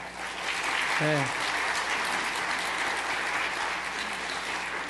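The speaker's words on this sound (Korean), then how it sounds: "우리 박수로 환영합시다" A church congregation during a Sunday service applauds to welcome a visiting missionary couple, a steady wash of clapping throughout with a brief voice rising over it early on.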